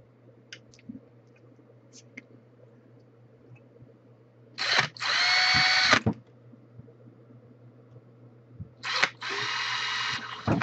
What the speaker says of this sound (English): I'm going to go ahead and drill the holes where I made the marks with the awl